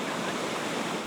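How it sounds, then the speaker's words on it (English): Steady broadband wind and surf roar at a hot, crowded summer beach with a constant breeze coming off the sea, continuous and fairly loud with no talk. "there's a constant breeze coming off the sea"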